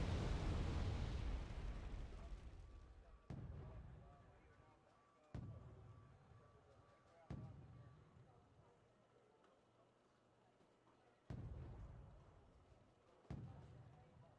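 A Panzer mortar barrage in Wargame Red Dragon lands as a series of about six booming impacts, the first loudest, each fading slowly, spaced a couple of seconds apart at a moderate distance.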